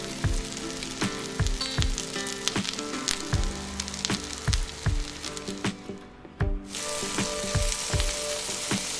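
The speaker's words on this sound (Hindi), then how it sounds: "इसी स्टेप पे आपने 1 बाय 1 करके इसमें वेजिटेबल्स को भी फ्राई कर लेना है।" Finely chopped carrots fry in a pan for a chicken macaroni dish, producing a loud, steady sizzle punctuated by frequent sharp spatula clicks and scrapes at a fairly regular pace, alone without speech.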